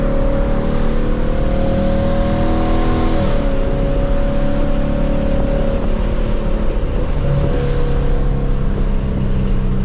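A 2024 Ford Mustang GT V8 revs loudly and close through a third-gear downshift, its harmonic engine note dropping abruptly partway through, then climbing and settling again with steady rumble throughout.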